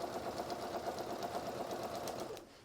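A domestic sewing machine stitches a seam on a beginner's pencil skirt, sewing up to perpendicular pins: a steady, rapid mechanical whir at close range, running continuously before easing off at the end, with no talking.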